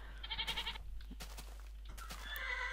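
A bleating sheep in Minecraft cries out twice, a short call then a longer wavering one, over a faint electronic background with no talking.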